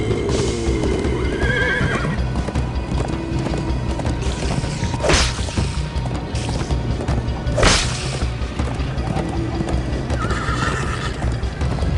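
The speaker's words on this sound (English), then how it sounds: "First time on a horse here." In a Minecraft Story Mode animation, a horse gallops with rapid hoofbeats throughout, and two sharp neighs stand out over the busy, loud action.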